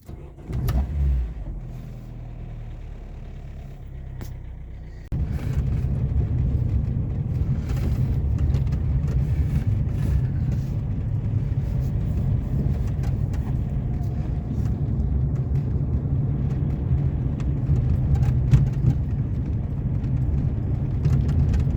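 A car drives along steadily, its engine a low continuous hum at moderate loudness, after a brief quieter stretch at the start; faint clicks and rattles come from inside the cabin.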